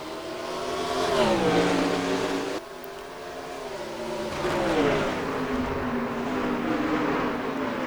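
Stock cars roar off at a restart in a Richmond racing sim, several engines climbing in pitch together, shifting and rising again, loud and continuous with no voices.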